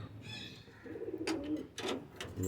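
Domestic pigeons in a home loft coo in low, soft murmuring bursts, with a few brighter flutters or scuffs near the end, fairly close and moderate in level with no talk.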